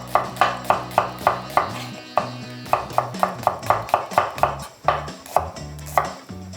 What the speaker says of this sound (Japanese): 繊維に逆らって切っていきます。